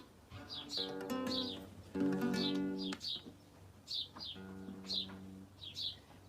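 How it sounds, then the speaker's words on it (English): Birds chirp and whistle in short, bright bursts throughout, mixed with strongly pitched, sustained tones like a voice or instrument singing along in phrases, moderately quiet and close. "The birds are singing with me"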